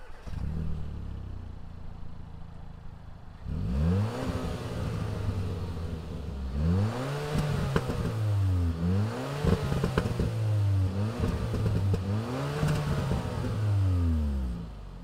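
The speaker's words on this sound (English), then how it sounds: "Let's fire up this Veloster Turbo and hear what it sounds like." A 2021 Hyundai Veloster Turbo engine cranks and catches, then settles into a steady idle before revving up and down several times in rhythmic blips, loud and close, with no talking.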